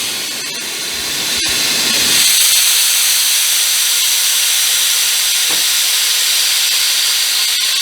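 A loud, steady hiss of air rushes out of a Tesla Model 3 tire valve, rising after a couple of seconds and continuing without pause.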